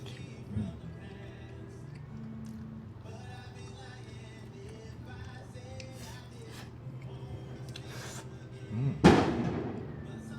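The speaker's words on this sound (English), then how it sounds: "It's a fireworks going on outside." Fireworks going off outside on the Fourth of July, heard from indoors as a low continuous rumble with a single sharp, loud burst near the end; no one speaks.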